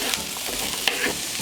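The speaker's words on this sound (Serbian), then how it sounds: "Ulje se zagrejalo i dodajem luk, šargarepu i papriku. Promešat ću i pržit ću 10 minuta." Onion, carrot and pepper fry in hot oil while being stirred with a spoon, giving a steady soft sizzle with a few light scraping clicks, close by and without speech.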